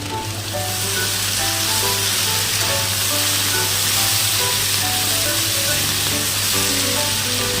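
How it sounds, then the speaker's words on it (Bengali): Green beans fry in a pan, giving a loud, dense, continuous sizzle with steady crackling close by, and no voices. "ভালো মতো ভেজে নিতে হবে বিনসগুলোকে।"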